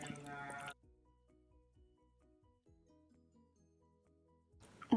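Table cream is poured into a bowl while making buko pandan, giving soft dripping and liquid sounds over faint background music, with a louder burst at the start and end.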